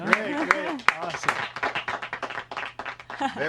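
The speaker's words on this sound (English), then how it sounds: "Very nice. Applause track." A podcast studio plays a short applause track with sparse, uneven claps mixed with voices talking over it, moderately close.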